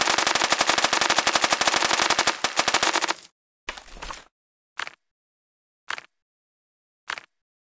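Rapid machine-gun fire in the Kick The Buddy game: a dense, loud stream of shots for about three seconds, then stops, followed by a few separate single shots with short silences between them, no talking.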